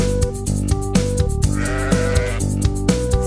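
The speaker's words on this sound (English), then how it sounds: "Sheep, sheep," A sheep bleats once in a drawn-out wavering cry over a bouncy children's song with regular drum beats and bright musical tones.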